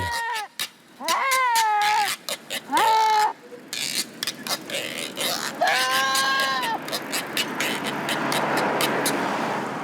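Goats bleat in loud, wavering cries, several calls in the first seconds and another burst later, carried on a bicycle in Zambia, with clicks and rustling road noise around them.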